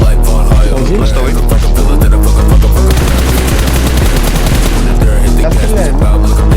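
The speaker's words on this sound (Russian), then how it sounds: "Я стреляю." Rapid, loud gunfire crackles from a mobile shooter game, with dense automatic bursts that run almost without a break and a player's voice briefly heard under the shots.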